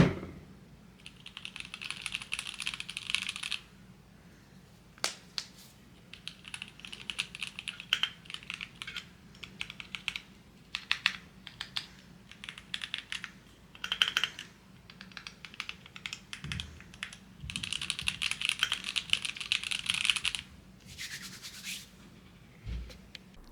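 Typing on a hefty Keychron mechanical keyboard with egg-white keycaps, bursts of rapid close clacking separated by short pauses, with no talking.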